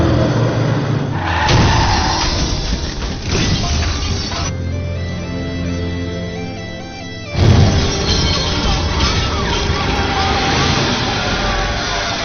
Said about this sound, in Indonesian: tiba-tiba supir jeep yang mabuk menabrak sebuah truk